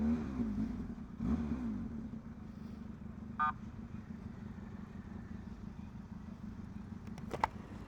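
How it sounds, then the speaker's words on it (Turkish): A low rumbling of a group of motorcycles riding past, engines droning steadily at a distance, with a brief rattle and a short high tone near the end. "Vay motosiklet çetesi ışık buluşması."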